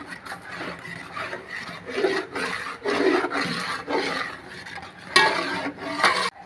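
Thick beetroot halwa with ghee is stirred in a pan, making rhythmic scraping and rubbing strokes close by, each pass rising and falling, with a few sharper clinks of the spoon near the end and no voices.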